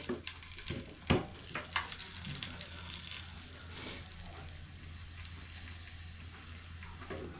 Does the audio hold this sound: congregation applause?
no